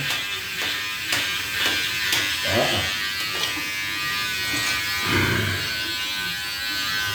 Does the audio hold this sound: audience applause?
no